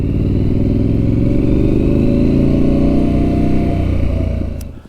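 A Triumph Street Scrambler motorcycle engine heard while riding, a loud, close, continuous low rumble with throbbing exhaust pulses and wind noise, holding steady before fading slightly at the end.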